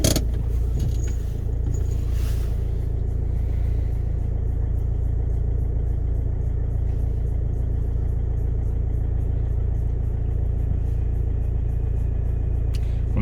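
Land Rover Freelander Td4 diesel engine idling along in third gear on a tarmac road, a steady low rumble with faint rattles from inside the cabin, continuous and unbroken.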